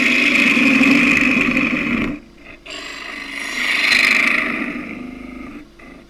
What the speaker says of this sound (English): Doing that with the 3/8 spindle gouge.